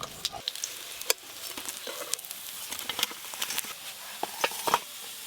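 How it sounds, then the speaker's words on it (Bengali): Fish frying in a pan: a steady close sizzle with scattered crackles and pops, fairly quiet and uneven, with no talking. "হ্যাঁ এই মাছগুলো ভাজা হয়ে গেল।"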